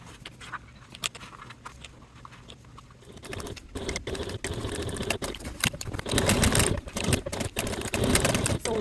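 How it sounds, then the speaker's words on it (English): A sewing machine stitches a basting line at a 1/8 inch seam allowance, attaching a slanted slip pocket to the lining of a crossbody bag; quiet handling sounds come first, then a steady, fairly loud run of stitching. "baste your pocket to your lining in place at a 1/8 seam allowance"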